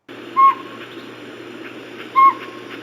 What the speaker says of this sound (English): Elf owl. This miniature owl is nocturnal and lives in cavities in dry woodlands.